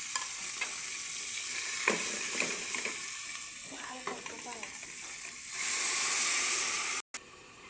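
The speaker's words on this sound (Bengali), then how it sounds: "খাসির মাংস দিয়ে দিলাম মাংস দিয়ে নাড়াচাড়া করে" Mutton sizzles in a hot pan while a utensil scrapes and stirs it in short strokes, with a louder burst of hissing steam near the end.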